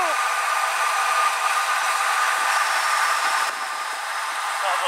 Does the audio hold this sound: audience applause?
no